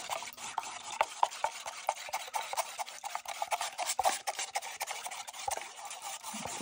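A spoon, tea or soup size, stirs a mixture of dish soap and water in a container, giving steady rhythmic scraping and swishing strokes at close range with no talking.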